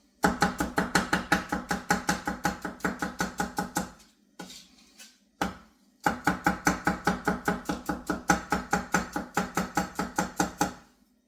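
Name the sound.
chopping onions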